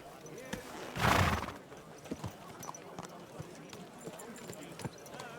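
Steady clip-clop of horse hooves at a walking rhythm in the video game Kingdom Come: Deliverance 2, with a brief loud whoosh near the start and a voice speaking faintly underneath.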